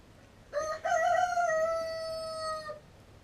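A rooster crows once, loud and close, with a long drawn-out call near a tallow-rendering fire outdoors.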